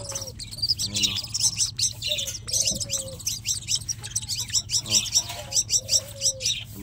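Pet perperoka birds chirp and tweet repeatedly while being fed, with bright overlapping calls and occasional coo-like notes at close range, over a low steady background hum.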